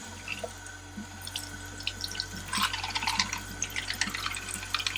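Tap water runs and splashes over a Hygger aquarium filter part being rinsed at a sink, with trickling and dripping that grows busier halfway through, close and moderate, no talking.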